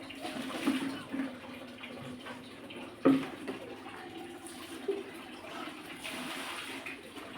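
Water splashes and pours in uneven bursts for washing, a few sharper slaps standing out against a low running wash, close by with no talk.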